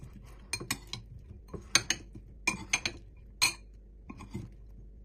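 Utensils mix a squid and cucumber salad dressed with balsamic vinegar and coriander, giving a scattered series of light clinks and scrapes against a bowl, close and fairly quiet with gaps between strokes.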